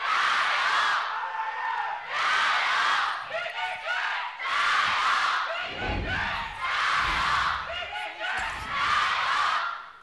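A large indoor esports arena crowd at a League of Legends LPL match, WE vs. EDG, cheers in repeated loud swells, roaring and fading several times, with a commentator's voice talking between the waves.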